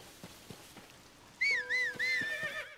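A horse in The Legend of Zelda: Tears of the Kingdom whinnies twice in quick succession, loud and close, with a faint rhythmic clopping of hooves beneath it.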